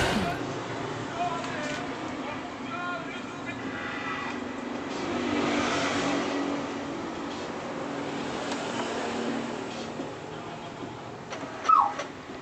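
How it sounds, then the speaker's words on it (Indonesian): Heavy traffic from a busy main road roars steadily throughout, a dense continuous wash of car engines close by, with a brief sharper squeak near the end. "di sini pinggir jalan besar, jadi suara-suara mobil itu sangat keras sekali"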